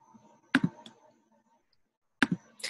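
A computer mouse clicks during a digital animation session: a crisp close pair of clicks, a lone click, a long quiet gap, then another quick pair of clicks.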